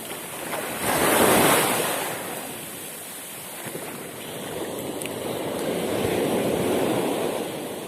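Rough sea waves surge and crash near a shore fishing spot, a loud swell building early then easing into steady roaring surf mixed with wind buffeting the microphone.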